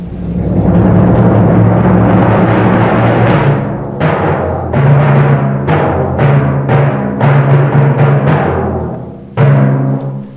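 Orchestral timpani and bass drum imitate hunters' shotgun shots in Pedro y el lobo, with loud booming strikes and rolls rumbling over sustained full orchestra.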